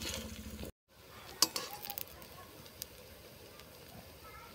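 Bora fritters frying in mustard oil in a village home kitchen: a soft, steady sizzle with faint scattered ticks of utensil on pan, after a brief cut of silence.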